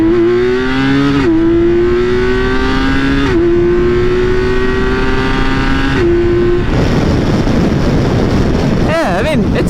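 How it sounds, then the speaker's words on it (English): A BMW K1600 GTL touring motorcycle with a six-cylinder engine accelerating hard, loud and close, its engine tone climbing steadily through several gear shifts, then fading into wind roar as a voice briefly speaks. "no review would be complete without a nice spicy little acceleration"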